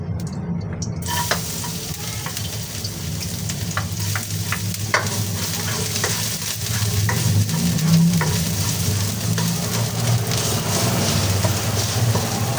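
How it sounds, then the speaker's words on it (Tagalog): Garlic sautéing in a little oil in a pan, a continuous crackling sizzle with steady scraping and stirring, growing louder and fuller in the second half, without speech. "Since konti lang po yung inilagay nating mantika, dyan na po rin tayo magigisa."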